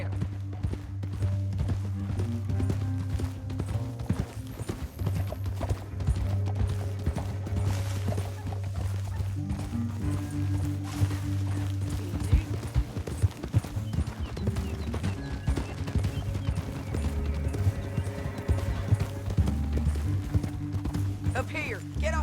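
Horse hooves clip-clop steadily through a Wild West scene in the video game Red Dead Redemption 2, mixed under a continuous low music bed and game ambience, with no talk.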